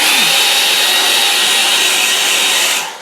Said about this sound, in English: just dry it with a hairdryer, which I'm going to do